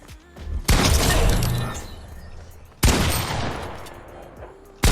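Shotgun fire in a first-person shooter game such as Fortnite or Overwatch: two loud, sharp blasts with long crackling decay, and a third blast starting at the very end, no talking.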